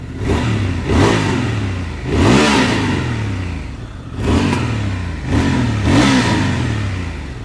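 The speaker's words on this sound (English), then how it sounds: "The stock exhaust sounds really good on a Transalp." A Honda Transalp motorcycle on its stock exhaust revs repeatedly, loud and close, with several rising throttle blips that sweep up and fall back between steady engine drone, no voices over it.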